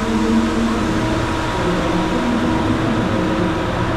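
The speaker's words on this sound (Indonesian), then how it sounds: "Keretanya mau berangkat ke Padang itu lagi." An airport rail train bound for Padang hums steadily as it prepares to depart, a continuous mid-loud mechanical drone with faint tonal whine and no one speaking.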